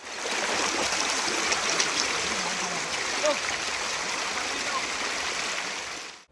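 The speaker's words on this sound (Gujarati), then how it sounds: "શહેરના નીચાણવાળા વિસ્તારોમાં નદીના પાણી ઘૂસી જતા અનેક વિસ્તારોમાં જળબંબાકારની સ્થિતિ ઊભી થઈ ગઈ છે" Auranga river floodwater rushes through the flooded low-lying streets of Valsad after torrential rain, a loud, steady, continuous roar of flowing water with no break.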